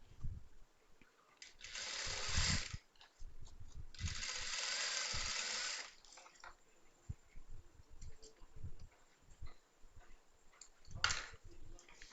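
A sewing machine runs in two bursts and then once more briefly, stitching a churidar seam with repeated back-and-forth stitches. Each burst is a steady, close mechanical whir, with quiet handling noises in between.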